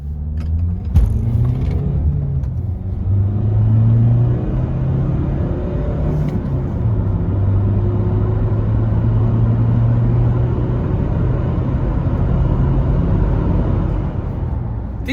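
A 2018 Honda CR-V 1.6 i-DTEC diesel accelerates through the gears on a wet road, its engine droning and rising in pitch with shifts, heard from inside the cabin as a loud, steady rumble without talking.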